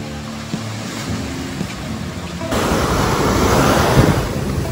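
Strong ocean waves pound Puka Beach on Boracay with a loud, steady roar of surf mixed with wind buffeting the microphone. The noise swells noticeably louder halfway through, and no voices are heard.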